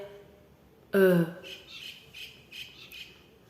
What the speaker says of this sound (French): Ce sont les oiseaux qui sont juste là à ma fenêtre.